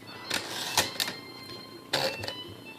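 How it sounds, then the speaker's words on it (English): Keys striking on a 1959 Torpedo 18-B Deluxe manual typewriter, a few sharp, spaced clacks over a faint steady hiss, fairly close and quiet. "Despite my horrible typing, that's really good print."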